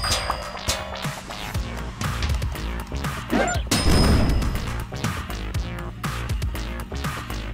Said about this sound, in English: Car explosions!